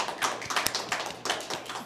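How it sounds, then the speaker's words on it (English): A short burst of applause, scattered claps and taps pattering irregularly for under two seconds in a room at a lunchtime presentation, fairly close and without voices. "So give them one more round of applause."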